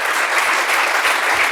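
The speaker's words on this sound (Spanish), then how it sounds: "le tenemos que despedir con un fortísimo aplauso" Loud audience applause at the close of a talk show interview, a dense continuous patter of many hands clapping at full strength across the whole short stretch.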